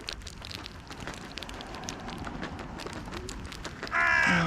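Crows caw intermittently at a distance during feeding over a soft crackling, rain-like background, with a louder burst of noise near the end.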